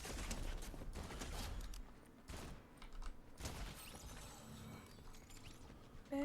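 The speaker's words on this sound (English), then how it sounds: "I hear gunfire." Bursts of gunfire in the Fortnite video game come in rapid clusters with sharp clattering cracks, followed by quieter scattered shots and mechanical clicks, fairly faint and with no talking over them.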